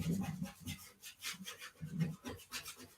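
A microfiber rag rubs wax into an old-world style desk, quick rhythmic swishing strokes, soft and close, repeating in short bursts with brief pauses between passes.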